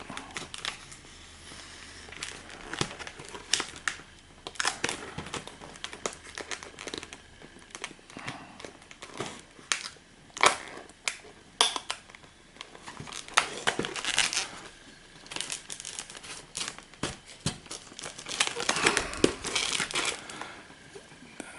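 Stiff plastic packaging of a Star Wars TIE Interceptor model kit is pulled open by hand, with repeated crinkling, crunching and tearing bursts of varying loudness across the whole stretch, close up and with no talking.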